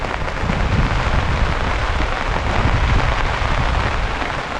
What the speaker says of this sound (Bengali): যে বৃষ্টিটা আমাদের ছাতায় পড়তেছে